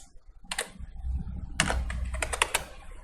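Close keystrokes on a computer keyboard come in a few quick clusters of clicks, with no voices.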